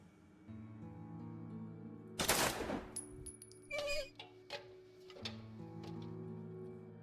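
Gunfire in the video game Don't Escape Trilogy: a loud burst of shots around the middle, followed by clattering impacts and a few sharp clicks over a steady game background hum.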